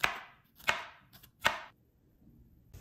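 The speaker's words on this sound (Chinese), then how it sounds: "这时候，我们把葱蒜切好备用。" A kitchen knife chops scallions and garlic on a cutting board while a beef stir-fry is being prepared: three sharp, close chops spaced about a second apart, with a few fainter taps between them.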